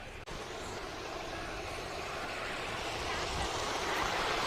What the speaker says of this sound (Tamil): தண்ணி சலசலப்பு சவுண்டு பார்த்தீங்களா?